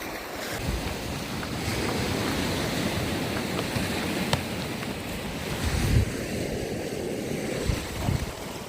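Waves wash steadily against the rocky White Rocks shore, a continuous surging roar mixed with gusty wind buffeting the microphone, with a couple of slightly heavier swells breaking near the end.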